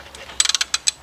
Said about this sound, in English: bring my ratchet to right about